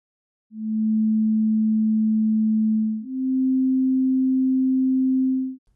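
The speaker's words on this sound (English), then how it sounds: "Let's hear the difference between these two heads, first represented with a sine wave." Two steady pure sine-wave tones played one after the other, each lasting a couple of seconds, the second slightly higher in pitch, clean and alone.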